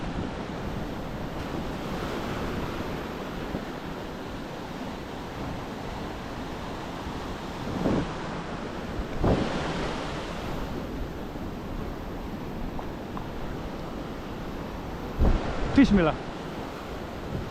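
Ocean surf with a strong, dangerous current on the coast of Nusakambangan island rolls on continuously, with louder wave crashes now and then under wind noise and a brief spoken word.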